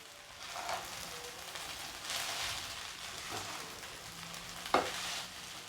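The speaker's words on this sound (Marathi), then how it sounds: "साबुदाणा जो आहे तो मिक्स करून घ्यायचा" Sabudana khichdi is stirred and mixed in a hot pan, giving a soft, continuous sizzle with occasional scraping stirs and one sharp clink, close and fairly quiet.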